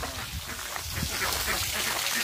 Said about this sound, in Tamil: இது வந்து நம்ம நாட்டு வாத்து